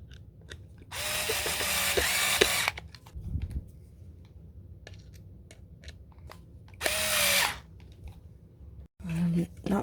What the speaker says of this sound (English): So we're going to put 2 screws in here to secure the outlet to the bracket.